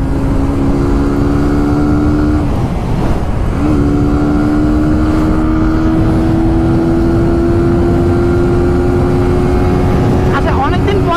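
A motorcycle engine revs loudly at close range, its whine dipping briefly near three seconds before climbing steadily, then surging again at the end.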